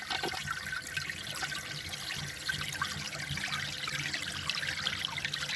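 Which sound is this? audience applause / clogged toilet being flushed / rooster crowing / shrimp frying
clogged toilet being flushed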